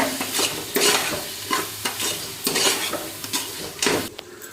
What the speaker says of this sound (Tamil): சேர்த்து நல்லா மிக்ஸ் பண்ணி விட்டுக்குவோம் அடி பிடிக்காமல் மிக்ஸ் பண்ணிக்கோங்க